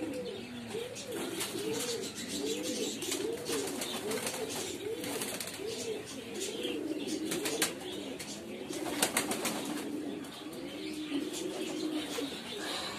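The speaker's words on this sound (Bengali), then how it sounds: "মডার্না মিউটেশনের আরেক জোড়া কবুতর হলো এগুলা।" Modena mutation pigeons at a pigeon farm coo steadily in rolling, repeated calls, several birds overlapping close by with a few light chirps mixed in.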